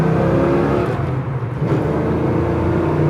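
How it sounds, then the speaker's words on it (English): A 1965 Chevrolet El Camino pulls away from a rolling stop and climbs through the gears, its engine note loud and close, rising and dipping as it shifts, with no voices over it. "go through the gears one more time"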